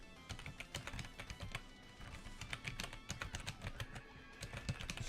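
A computer keyboard clatters in quick, uneven runs of keystrokes while someone plays a vtuber typing game, recorded up close at low volume with no voices.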